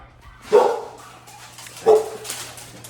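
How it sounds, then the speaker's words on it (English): Neighbor's dogs barking outdoors in a Georgia yard, stirred up by newly hatched baby birds: two separate loud barks about a second and a half apart, with a low steady hum underneath and no talking. "So the dogs have been going crazy because the baby birds have hatched."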